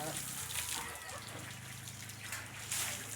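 An elephant in Chitwan, Nepal sprays water from its trunk over itself, a broad hissing splash and trickle running throughout, with people talking over it.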